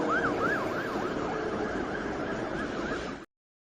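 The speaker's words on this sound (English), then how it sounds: "There's the ambulance going by" An ambulance siren wails in a rapid rising and falling pattern, moderately distant, over road noise, then cuts off abruptly.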